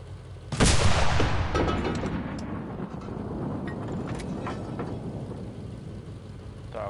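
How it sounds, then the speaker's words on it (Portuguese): A loud blast of gunfire strikes a tank's ammunition compartment in the video game Enlisted, a sharp boom at the start followed by a long rumbling decay and scattered distant shots. "Agora a gente atira no compartimento de munição."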